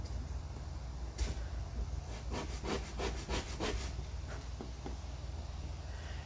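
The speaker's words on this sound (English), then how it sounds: "this is balsa wood. It's very soft. It sands really well." Quick rhythmic scratchy strokes of sanding small pieces of soft balsa wood for a model rocket, about a dozen rapid rubs in a burst, then a few slower passes, close up.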